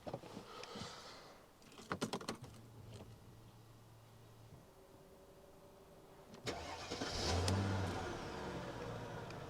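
A used luxury coupé bought for £500 is started: clicks and cranking bursts early on, a quiet pause, then the engine catches and settles into a steady, fairly close idle.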